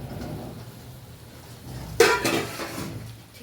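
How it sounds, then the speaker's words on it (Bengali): A cooking pot lid lifted and flipped over while chicken cooks wrapped in banana leaves, giving a single clattering metallic clink and scrape after a quiet stretch of kitchen room noise. "দেখো আরেকবার ঢাকনাটা উল্টাচ্ছি।"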